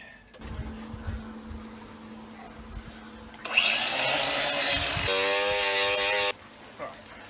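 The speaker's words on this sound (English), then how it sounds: "What we'll do is we'll cut that off there. Get the grinder again." A grinder cuts off a piece of a DIY cat run. Quiet handling noises give way to a loud, harsh grinding whine that runs close for about three seconds, its pitch shifting as it bites, then stops abruptly.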